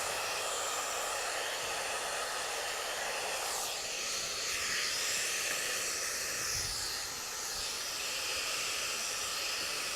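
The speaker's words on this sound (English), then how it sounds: "I'm going to use the heat from the blow dryer to get the hair up in the air." A hair dryer blows hot air to lift a man's hair upward during a haircut, giving a steady, loud, continuous airy roar throughout with slight shifts in tone as the dryer moves.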